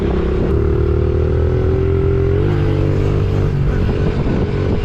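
A Honda XR70 mini motorcycle engine runs close and loud, a steady buzzing putter that idles and rises slightly in pitch midway, with faint mechanical clatter and no voices.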